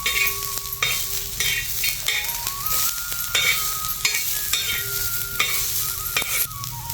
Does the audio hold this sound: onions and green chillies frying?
yes